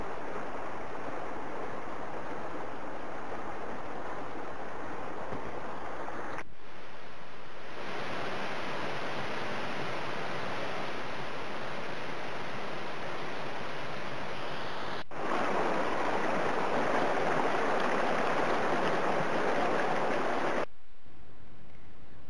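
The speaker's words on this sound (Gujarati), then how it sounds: "હરનાવ નદી બે કાંઠે વહી રહી હતી." The Harnav river in Gujarat rushes bank to bank in spate, a dense, continuous roar of water in several abrupt takes, growing louder in the last stretch, with no voices.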